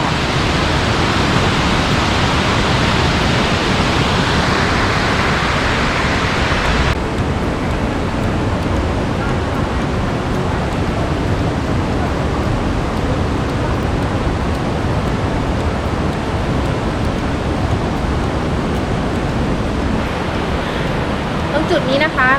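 A stream running beside the trail at Khlong Lan waterfall gives a steady, dense rush of flowing water that fills the whole stretch without pause, loud and close.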